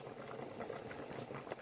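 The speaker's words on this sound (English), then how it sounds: "Here's the boiling water." A pot of water at a boil for rice, with a steady close bubbling and hiss running throughout, no voice over it.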